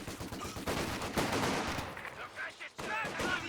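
A Vickers machine gun fires in the Company of Heroes 2 video game, a dense rattling stream of rapid shots mixed with battle noise, steady and loud across the stretch with a brief dip near the end.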